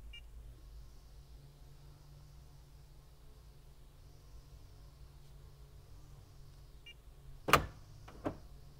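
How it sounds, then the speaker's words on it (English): Door locks on a Honda or Acura car are triggered through a diagnostic actuator test, giving two sharp mechanical clunks in quick succession near the end, over a quiet steady background hum. "I just locked all the doors."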